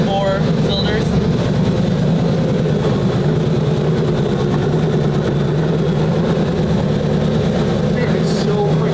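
A Lamborghini Countach replica kit car, a Hollywood movie car, idles with a loud, steady, low rumble heard close, while people talk over it.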